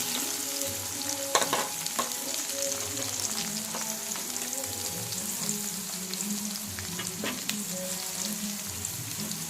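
Four chopped onions and three green chillies fry in a pan, a continuous close sizzle with occasional scraping stirs and a couple of sharper clinks, a faint voice briefly audible beneath.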